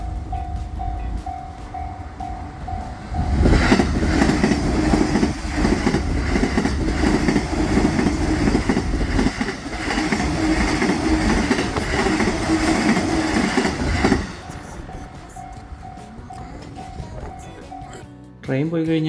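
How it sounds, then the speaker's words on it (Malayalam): A train rumbles and clatters loudly past a fully automated railway level crossing in Japan. The crossing's alarm bell rings steadily before and after the pass, and people talk nearby. "ട്രെയിൻ വരുന്നതിന് ഏതാണ്ട് ഒരു മിനിറ്റ് മുന്നേ ഇത് ക്ലോസ് ചെയ്യും."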